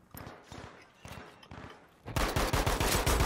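Gunfire in the video game Battlefield 5, with spaced bursts of shots that give way to a louder, sustained rapid automatic volley near the end.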